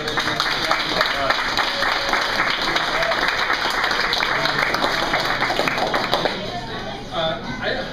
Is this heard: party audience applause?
yes